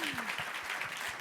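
A short burst of clapping from a crowd, brisk and steady, lasting only about a second.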